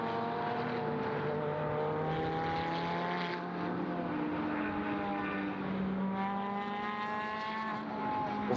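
Vortex and Ferrari GT race cars racing at Mugello, their engines droning continuously with rising and falling pitch as they pass at a distance.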